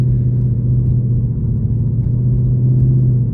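Steady low rumble of a 2023 Mustang GT V8 running a Lund Racing tune while cruising in normal driving, a constant droning engine note heard from inside the car with no talk.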